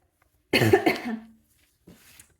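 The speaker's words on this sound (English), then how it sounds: "Started coughing again." One close, harsh cough burst, followed about a second later by a fainter, softer cough.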